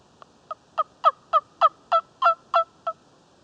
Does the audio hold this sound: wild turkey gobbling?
yes